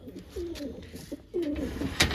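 Pigeons coo in soft, rolling low calls, two drawn-out phrases close by, with a faint sharp click near the end.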